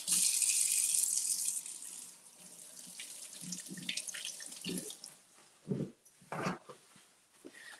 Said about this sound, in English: All right, let's wash our apple.